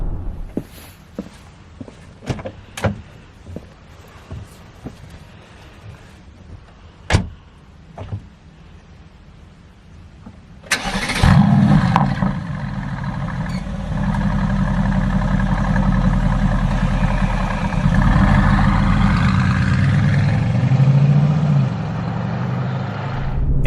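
A 2016 Mercedes AMG GT: a few clicks and footsteps, then the engine cranks and fires with a loud bark and settles into a deep, steady idle, close by and without talk.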